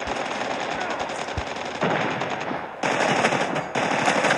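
Rapid automatic fire from the POW 57 gun in Call of Duty Mobile Front Line, three loud, close bursts of fast, evenly spaced shots separated by brief gaps.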